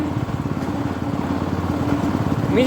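A hand tractor's small engine chugs steadily and loudly up close, a rough continuous putter with a slight rise in pitch near the end.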